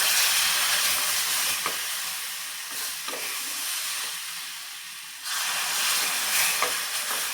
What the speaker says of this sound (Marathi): तर आता थोडं थोडं दूध घालूया